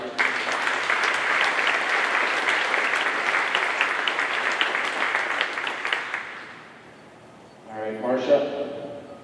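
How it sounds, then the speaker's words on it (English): Sustained audience applause for a band at a military change of command ceremony, dense and even for about six seconds before fading, then a voice speaks alone. "Let's give them one more round of applause, please."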